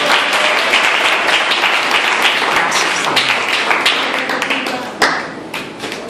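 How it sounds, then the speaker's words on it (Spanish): A church congregation claps for the Lord, a loud dense burst of applause that gradually thins into scattered individual claps toward the end. "Dale un aplauso al Señor."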